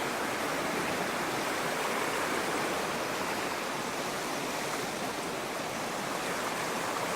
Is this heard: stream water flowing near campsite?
yes